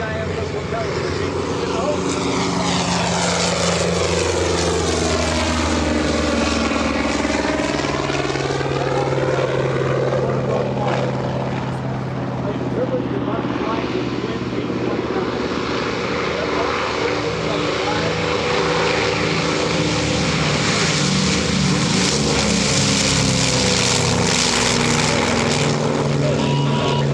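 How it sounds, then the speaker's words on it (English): A propeller airplane takes off at EAA AirVenture 2025, its engine roaring loud and steady throughout, with the pitch sliding as it passes and the drone filling the whole stretch. "Now going back to the second airplane taking off"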